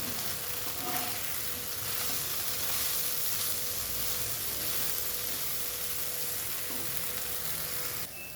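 Soybeans frying in oil over a medium gas flame give a steady, loud, hissing sizzle that runs unbroken, with faint stirring scrapes now and then.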